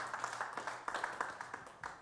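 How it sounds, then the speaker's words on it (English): An audience applauds after a concert, a fairly quiet, steady patter of many hands clapping at a moderate distance, with no talking over it. "Let's give a round of applause for that."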